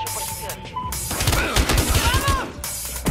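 Rapid bursts of gunfire in the video game Battlefield Hardline crackle and pop in quick clusters over a busy, loud mix with background game effects and brief voices.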